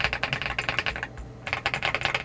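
Rapid close clacking keystrokes on an 8Bit Retro fully aluminum 75% keyboard with tactile Kailh Box White switches, two quick bursts of typing separated by a brief pause.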